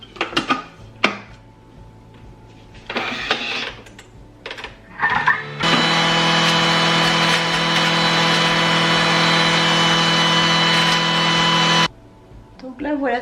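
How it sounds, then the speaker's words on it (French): A Thermomix runs a steady whirring motor for about six seconds as it coarsely chops carrots, the blade noise loud and even before it cuts off. Earlier, brief kitchen clatter and a voice are heard around it. "c'est au Thermomix donc voilà, je vais les mixer un petit peu pour qu'elles soient en morceaux assez grossiers"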